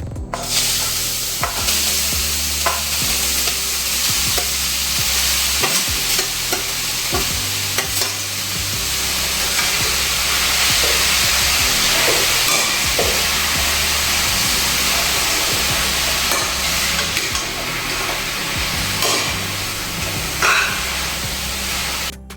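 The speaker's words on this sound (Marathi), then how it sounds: "तर अगदी लो हीटवर आपल्याला व्यवस्थित गाजर शिजवून घ्यायचे" Grated carrots cooking in ghee in a hot kadhai on low heat for carrot barfi, a loud steady sizzle with repeated scraping stirs of a spoon against the pan throughout.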